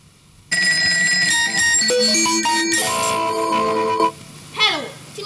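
A telephone rings with a bright electronic melody of tonal beeps, loud and close, running for about three and a half seconds before cutting off into softer chirping sounds.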